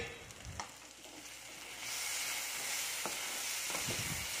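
Ivy gourd (kovakka) pieces fry in oil in a pan, a steady close sizzle that swells louder halfway through, broken by a few sharp clinks of a spoon against the pan.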